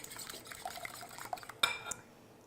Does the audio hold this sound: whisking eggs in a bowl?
yes